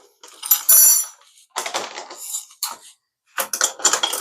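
A spoon scrapes and clinks inside a bowl while stirring apple turnover filling with a little stevia, in several short bursts separated by brief silences, close and fairly loud.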